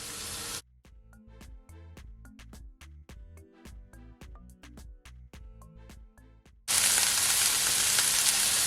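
Beef and ginger fry in a pan over high to medium heat for chow mein, with a loud close sizzle that cuts off briefly, gives way to a plucky music interlude, then returns strong and steady.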